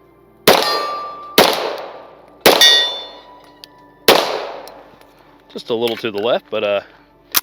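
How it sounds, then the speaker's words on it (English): Four loud Springfield 1911 pistol shots ring out one after another, each followed by a sustained metallic clang from a steel target, then someone speaks briefly. "All right, first shots out of the 1911. I'm gonna shoot for number 1."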